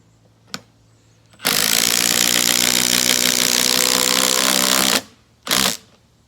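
A Milwaukee Fuel brushless impact driver rattles loudly in one sustained burst of rapid hammering, then gives a short second burst after a pause, with a faint click before it starts.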